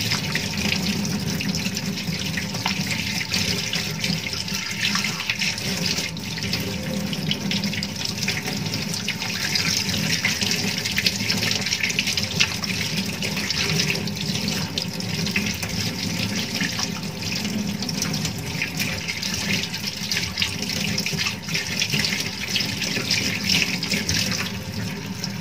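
Hands are rinsed of soap under a running tap, a steady rushing stream of water splashing into a sink, continuous and even throughout.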